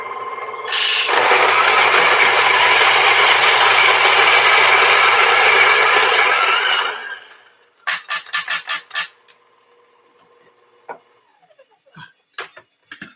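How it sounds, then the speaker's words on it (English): A coffee grinder grinds coffee beans in a steady, loud whirring roar for about six seconds, then winds down and stops, followed by scattered clicks and taps. "Okay, now we've got our coffee that's so nicely ground."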